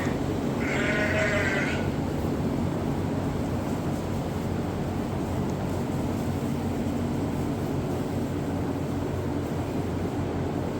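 A sheep lets out one brief wavering bleat near the start, then only a steady low rumbling background remains with no further calls.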